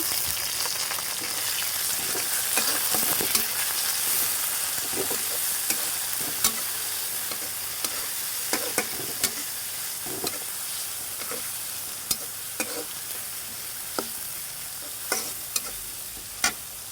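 Small shrimp frying and being stirred in a pan for a Bengali pui shak dish, with a steady loud sizzle throughout and repeated sharp scraping clicks of the stirring spoon, no voices.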